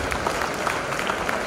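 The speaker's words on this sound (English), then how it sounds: "Please give him a huge round of applause." Brief burst of audience applause at a corporate HR conclave, a dense patter of many hands clapping at a steady, moderate level with no voices over it.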